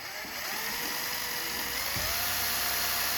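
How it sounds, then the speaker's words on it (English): A buffing wheel spun on a drill polishing a bronze ritual brazier, giving a continuous high whirring hum with a steady, unbroken motor drone and a brief low bump partway through. "now I've got my buffing wheel on a drill here"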